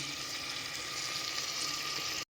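Biryani ingredients sautéing together in a pressure cooker, giving a steady, dense frying hiss that runs evenly throughout and then cuts out abruptly at the end, with no voices.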